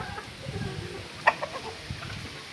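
Chickens at a poultry farm in Penedo, Alagoas, with breeds including Índio Gigante: faint, scattered clucks and one brief sharp squawk over low background noise.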